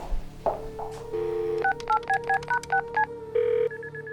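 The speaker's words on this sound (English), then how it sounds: "I checked Doughboy's voicemail. Listen." Telephone keypad tones sound while someone accesses a voicemail line: a held tone, then a quick rhythmic run of about eight short beeps and a final longer tone, clear and close with no talking.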